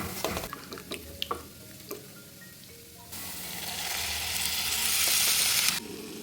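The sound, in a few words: tamarind water poured into sizzling pan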